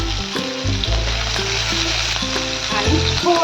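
Chopped green chillies hit hot oil in a frying pan, giving a steady, close sizzle and crackle that fills the moment with no talking.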